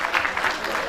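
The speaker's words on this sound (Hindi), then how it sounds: "जोरदार तालियों के साथ स्वागत और अभिनंदन करें" Brief burst of audience applause at a welcome and felicitation ceremony, many hands clapping in a dense, even wash for under a second.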